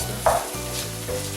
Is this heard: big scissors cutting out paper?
no